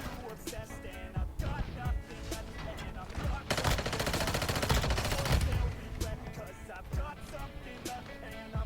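Rapid automatic gunfire in Call of Duty: Warzone Mobile rattles in bursts, building to a dense, loud sustained volley midway before tapering to scattered shots, with a voice talking over it.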